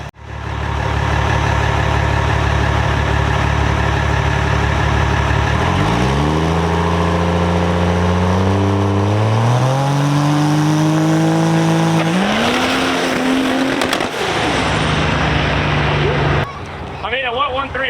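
A race truck engine on nitrous revs up in rising stepped sweeps, loud and close, climbing through several pulls before cutting off abruptly near the end, with voices talking over it.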